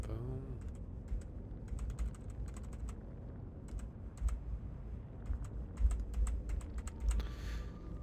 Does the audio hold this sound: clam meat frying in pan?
no